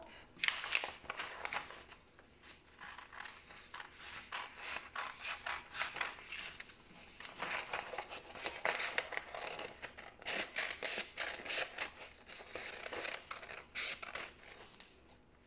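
Scissors cutting a retraced paper sleeve pattern for a dress, with steady runs of crisp snipping and paper rustling, close and fairly quiet.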